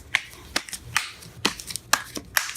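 Tarot cards being shuffled close up, with a run of short crisp riffles and snaps spaced irregularly over a couple of seconds, fairly quiet and with no voices.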